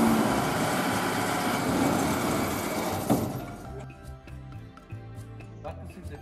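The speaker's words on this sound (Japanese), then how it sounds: "ホーンなどで合図をしてからエンジンを始動するようにしてください" A combine harvester engine fires up with a loud broadband roar, then settles within a few seconds into a lower, rhythmic running rumble, close by.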